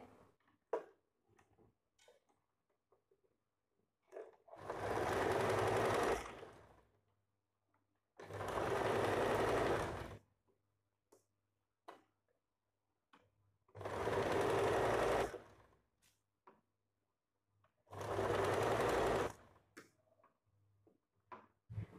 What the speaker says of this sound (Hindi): तो चलिए पहले सिलाई कर लेते हैं।